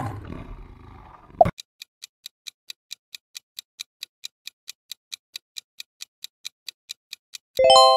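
A lion roar from the MGM logo sounds briefly and loudly at the start, followed by a long run of evenly spaced clock ticks and a closing tone.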